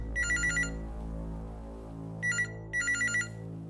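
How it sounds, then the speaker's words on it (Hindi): A telephone rings in a Hindi crime drama: a bright electronic trill in a quick burst, a pause, then two more bursts, over a low background hum. "सुल्तान का फोन।"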